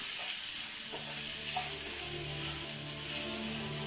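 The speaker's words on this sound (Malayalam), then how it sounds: "തേങ്ങ ഒന്ന് വറുത്തെടുക്കണം." Grated coconut roasting in a hot pan gives off a steady, fairly quiet sizzling hiss with faint stirring scrapes, continuing evenly throughout with no voices.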